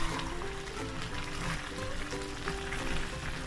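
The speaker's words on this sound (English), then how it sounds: "Look at that sizzle." Oil sizzling steadily in a pan while cooking plantain porridge, a dense continuous crackle close by with faint low stirring sounds underneath and no speech.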